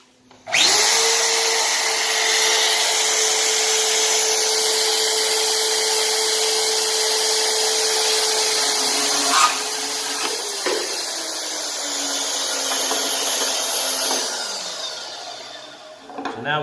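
A power tool whines steadily while cutting a metal spindle to length, a loud sustained grinding drone with a shift in pitch partway through as the blade works down and the motor winds off at the end.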